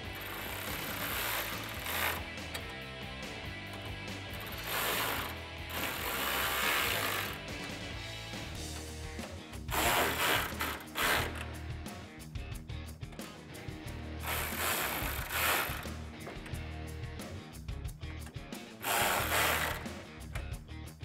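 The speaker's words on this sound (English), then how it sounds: "Now I can take my 8mm socket on my ratchet and tighten down all six of those nuts." Ratchet with an 8mm socket tightening six nuts on a 2004-2008 Ford F150 upper grille, rapid close clicking runs in several bursts separated by brief pauses, fairly loud and alone.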